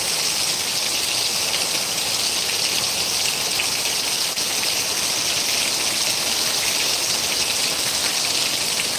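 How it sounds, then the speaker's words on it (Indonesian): A constant, loud downpour of heavy rain rushes and hisses without pause, thick with splashing drops on surfaces nearby and no voices present. "Hujan di sini, hujan gede."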